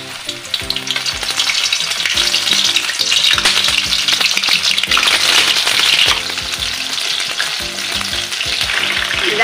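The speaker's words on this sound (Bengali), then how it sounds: "তেলেতে দিয়ে ভেজে নিচ্ছি।" Bombay duck (lote fish) fries in hot oil with a loud, continuous crackling sizzle, while a tonal, melodic accompaniment runs underneath throughout.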